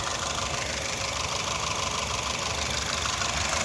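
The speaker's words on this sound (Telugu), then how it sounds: "ఇంజన్ నాయిస్ అయితే ఎక్కువ లేదు." A 2012 Honda City V petrol car sits idling with a steady, even engine drone and broadband hiss, close and fairly loud, with no one talking.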